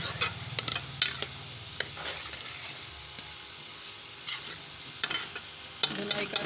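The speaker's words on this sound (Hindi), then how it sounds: "अब इनकी अच्छी तरह भुनाई करूँगी।" Frozen peas roasting for aloo matar curry are stirred in a pan, a spoon clinking and scraping against the metal in irregular knocks over a soft sizzle.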